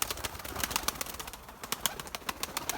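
Pigeons gathered together, with rapid, repeated wing flaps and fluttering close by, mixed with faint cooing and bird calls in a busy, steady outdoor setting.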